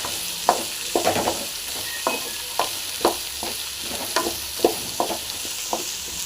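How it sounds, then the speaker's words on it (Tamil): Coriander stems fry in a pan for white radish chutney, with steady sizzling and repeated sharp scrapes of a spoon stirring every half second or so, close and clear, no talking. "கொத்தமல்லி இந்த தண்டு மட்டும் போட்டிருக்கோம், அதையும் போட்டு நல்லா ஃப்ரை பண்ணிக்கலாம்."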